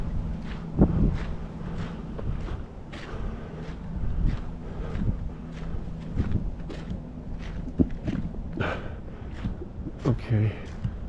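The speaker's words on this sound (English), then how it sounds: "It's very windy." Strong wind buffets the microphone on an outdoor walking trail on a cold day, a constant rough roar with gusty bumps and rustling throughout, likely with footsteps mixed in.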